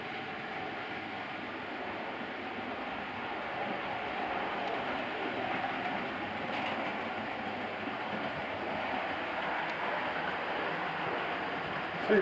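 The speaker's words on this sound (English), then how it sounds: "Two locomotives running, one's a Class 25, I believe it's a Hornby one" Two OO gauge Hornby model locomotives, a Class 25 and a West Country Class, run around the layout track, giving a steady, moderate rolling rumble with faint rail clatter throughout.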